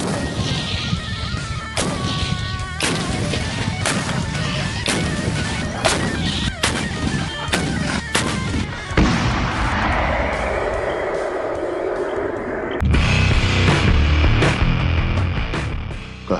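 Towed howitzer fire, a series of sharp, loud blasts and cracks in irregular succession, followed by a rolling rumble and a louder sustained roar near the end.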